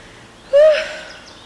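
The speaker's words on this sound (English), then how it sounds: "Oh gosh, I'm so out of breath." One sharp, loud, breathless gasp from a person out of breath after exertion, with a brief voiced rasp as the air rushes in. It fades over half a second against a quiet room.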